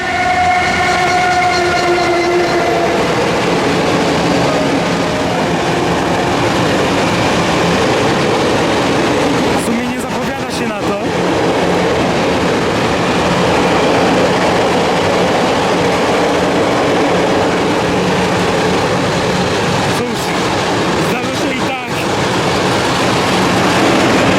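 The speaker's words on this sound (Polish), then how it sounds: "Ja się śpieszę, bo znowu jedzie pociąg." A train passes close by with a loud steady rumble, a horn tone at the start and rhythmic clatter of wheels over rail joints.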